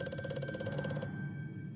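A telephone rings in the horror game Amnesia: A Machine For Pigs, a trilling bell with a fast, rattling pulse that cuts off sharply partway through, leaving a fading ring.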